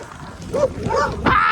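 Dogs bark at a cyclist riding gravel roads near Fayetteville, Arkansas, giving a few short, close barks and yips in quick succession over wind and road noise.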